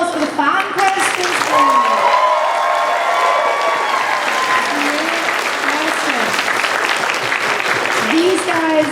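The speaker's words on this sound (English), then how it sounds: "A round of applause for the fan questions." A crowd at a RetroGameCon gaming panel gives sustained applause for fan questions, thick steady clapping with some cheering and voices woven through, lasting around nine seconds.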